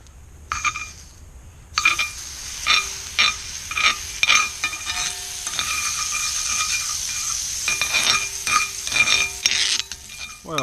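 An oatmeal pancake fries in a pan, a steady sizzle interrupted by repeated scraping and clattering of a utensil against the pan, close and fairly loud, with no voices.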